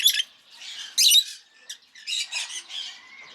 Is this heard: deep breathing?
no